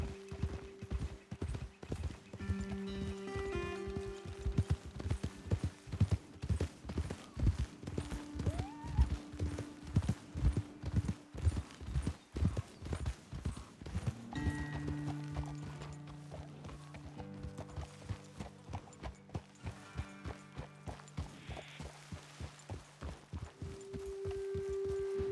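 Steady rhythmic horse hoofbeats clop along at a brisk pace in the video game Red Dead Redemption 2, with a soft whinny and background music tones underneath, moderately quiet.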